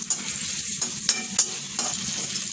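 Chopped garlic frying in olive oil with a bay leaf for goat adobo, a steady close sizzle broken by several sharp scraping stirs of a utensil against the pan, with no talking.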